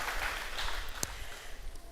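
An audience claps for the farmers at a yam agriculture symposium, producing a soft, steady wash of applause with one sharp knock partway through.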